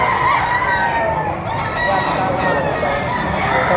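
A two-year-old rooster crows loud and close at a poultry market in Padre Garcia, Batangas, one long sustained call over constant crowd chatter and background noise.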